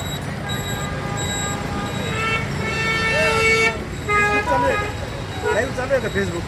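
Repeated car horns blare through a congested traffic jam on Gangapur Road, where underground sewer works are underway, with a steady roadway rumble and people talking close by.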